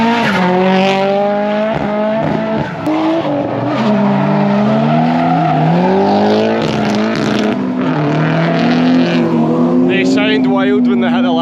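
JDM drift car engine at Driftland in Scotland bouncing off the rev limiter, a loud, continuous high-revving howl with wavering, stuttering pitch that holds close for the whole stretch.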